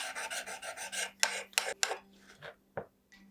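Bonsai scissors blade being sharpened, a quick series of rasping strokes followed by several separate scraping pulls, close and clear over a faint steady hum, with no talk.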